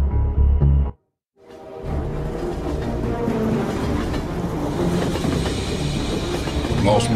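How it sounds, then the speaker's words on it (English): Train arriving in a video game, a loud rumbling rolling roar that cuts off briefly into near silence and then returns as a steady, heavy rattling clatter sustained to the end. "Sounds like someone's coming in on that train."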